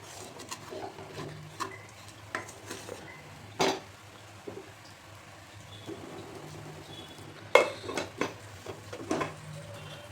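Sabudana is stirred in a pan, giving soft scraping and light clinks of a spoon against metal at irregular intervals, quiet and close, with a few sharper taps standing out.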